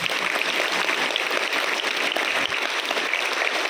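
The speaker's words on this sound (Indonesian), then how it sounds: "Tepuk tangan untuk orang-orang putih." Dense, steady applause from a seminar audience at an Islamic girls' boarding school, a continuous wash of many clapping hands at moderate volume without voices on top.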